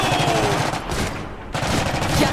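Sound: machine gun fire in the video game Iron Harvest

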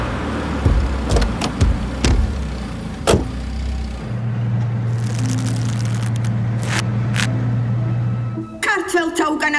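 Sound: car waiting, door and electric windows

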